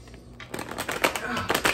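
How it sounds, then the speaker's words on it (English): A tarot card deck is shuffled close by in a quick burst of crackly, rustling riffles that starts softly and then turns busy and uneven. "I'm gonna just shuffle one good time."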